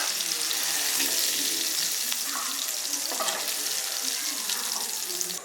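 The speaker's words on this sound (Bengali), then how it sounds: "চিংড়ি মাছটা হালকা লাল করে ভাজতে নিছি" Shrimp fry in hot oil, browning lightly, with a steady loud sizzle and crackle, occasional stirring scrapes and spattering pops running continuously throughout.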